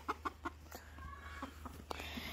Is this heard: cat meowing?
no